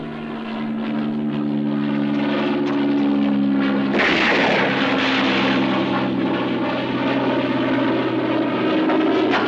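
Propeller aircraft roars in on approach to a runway during a sci-fi horror outbreak scene, a loud, steady engine drone that surges and grows harsher midway, with no voices over it.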